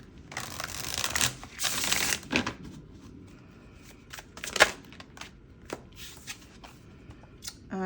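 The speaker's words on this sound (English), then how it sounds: "One more shuffle." Tarot cards are shuffled by hand close up: quick papery riffles and soft slaps come in bursts, loudest early on, then lighter taps and flicks continue with brief pauses.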